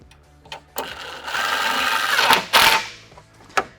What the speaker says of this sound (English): we're just going to thread that in there and tighten it up with an impact